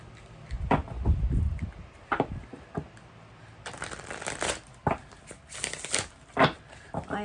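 Tarot cards being shuffled by hand nearby, a riffle of rapid crisp flutters in bursts, with a soft thump and some handling noise before it.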